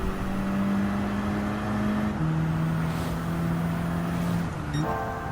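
Audi TTS Coupé '14 engine in Gran Turismo 7 on the Tsukuba Circuit, a steady droning note that drops in pitch as it shifts up a gear, then shifts again near the end, loud and continuous.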